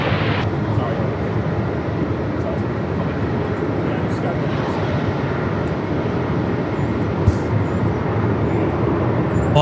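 An airliner lands at Melbourne Airport in strong wind, its engines a continuous low rumbling roar blended with heavy wind buffeting, loud and steady throughout, with a voice faintly present beneath.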